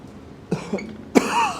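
Two close, sharp coughs separated by a short pause, the second louder and followed by a brief raspy breath.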